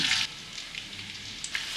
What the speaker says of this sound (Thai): น้ำมันเริ่มร้อน ใส่หอม